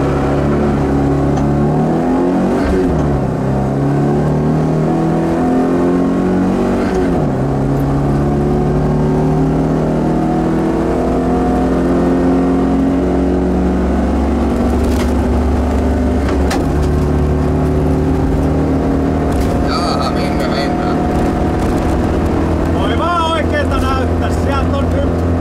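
Rally car at the 2012 Teijo-Talot Ralli launching hard from the start line, a loud in-car engine roar climbing through revs and gear changes across the whole stretch, with voices speaking over it.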